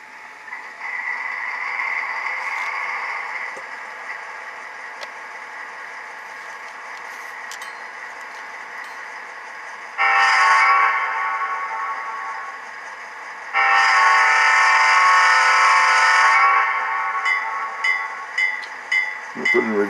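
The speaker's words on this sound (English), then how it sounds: "Let's start the diesel." A model Union Pacific gas turbine locomotive fitted with a DCC sound decoder runs through a diesel start-up sequence. A steady mechanical drone hums throughout, and two loud swells of engine roar cut in partway through, with no talking.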